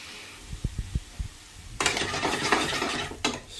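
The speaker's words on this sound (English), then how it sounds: "Just keep stirring now and then." Onions being stirred in a pan over reduced heat for chicken tikka masala: a few soft low knocks first, then a steady scraping, rustling stir with brief sizzle, close and moderate in level.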